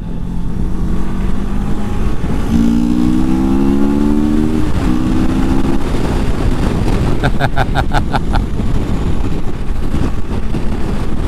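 CFMOTO Adventura 650 motorcycle revving, its intake induction roar rising and falling loudly up close over steady engine and road noise, with a brief burst of quick rattling pulses partway through.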